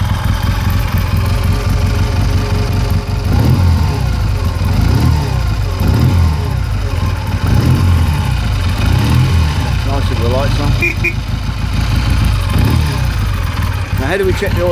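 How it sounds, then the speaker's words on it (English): A 1959 Triumph Speed Twin 500cc motorcycle runs steadily at a low, even idle, its exhaust giving a continuous deep thrumming pulse up close, with a few faint mechanical ticks and brief blips near the end. "Got that characteristic Triumph woof from the exhaust"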